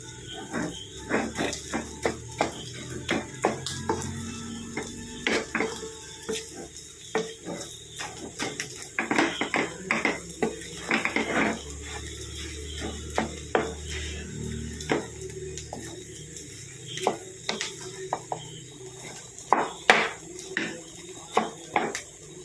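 Cooked jackfruit is stirred in a pot with a metal spoon, making irregular, close clanks and scrapes against the pot. A faint insect-like hum runs underneath, and no voices are heard.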